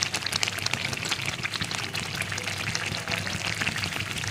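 Red chilli powder being stirred into a sizzling kofta curry masala, a steady loud fry-sizzle with scraping stir strokes running throughout, no voices.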